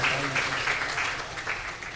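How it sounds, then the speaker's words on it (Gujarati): An audience claps and applauds at a devotional gathering, a steady wash of many hands sustained throughout at moderate loudness, with no voices standing out. "ખરેખર એમને એક વખત તાળીઓથી વધાવીએ"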